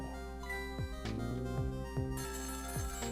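A phone rings in the video game Ghost Trick: Phantom Detective, a repeated electronic ringtone over a steady musical backdrop, several bursts in quick succession at moderate volume.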